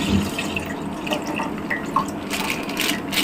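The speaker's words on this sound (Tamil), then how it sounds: "இப்போ நான் வந்து 1/2 லிட்டர் ஃபுல் கிரீம் மில்க் வாங்கியிருக்கேன். நம்ம அதை ஊற்றிக்கலாம்." Half a litre of full cream milk pours into a pan on the stove, a steady liquid stream with splashy, dripping bursts for a few seconds.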